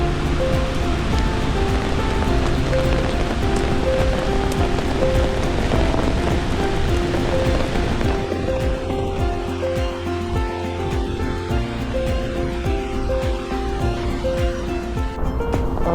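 Girmal waterfall pours in a continuous, dense rush of falling water, steady and close, with no voices.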